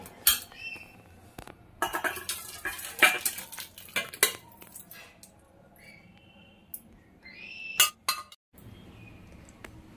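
Cooked dal with bottle gourd stirred in a pressure cooker with a metal utensil, irregular clinks and scrapes of metal against metal coming in bursts with quiet gaps between them.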